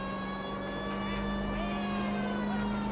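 A propeller airplane in the video game L.A. Noire drones with a steady, sustained engine hum that stays constant throughout.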